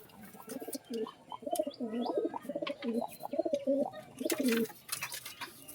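Pigeons coo close by in a run of soft, throaty, rolling calls repeating in a steady rhythm for several seconds, with faint chirps and a little background voice.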